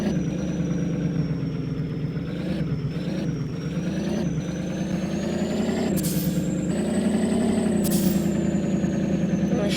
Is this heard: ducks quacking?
no